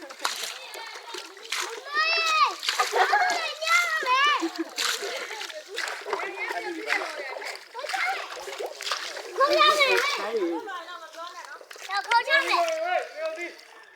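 Water splashes and sloshes during a child's bath, repeated uneven splashing close by while someone talks and vocalizes almost continuously over it.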